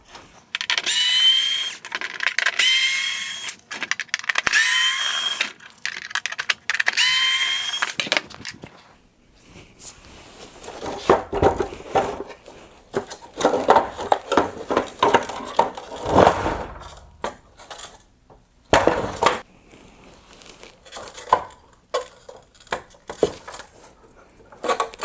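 Small T10 Torx screws come out of a Ford F150 LED headlight assembly with quiet scraping, clicking and metallic handling sounds, some brief rattling bursts at the start and intermittent taps throughout.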